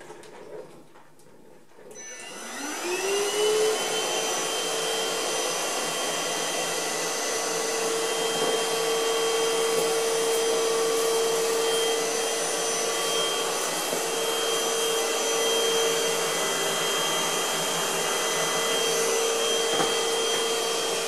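An iLife Easine H55 vacuum cleaner starts after a brief quiet moment, its motor rising to a steady, close, whining hum that holds evenly with faint scraping underneath, no talk.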